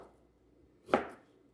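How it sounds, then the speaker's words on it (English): A knife slices beef sirloin steak into thin pieces with a single crisp cut against a board, close and otherwise quiet. "next we're gonna slice up the steak. We're going for thin slices so it can cook faster."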